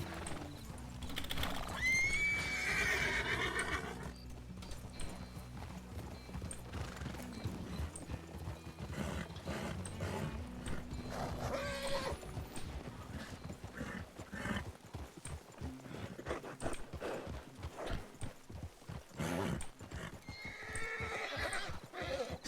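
Horses in the RedM game neigh loudly near the start, then their hooves clip-clop in a steady rhythm throughout, accompanied by rattling tack and a low background rumble.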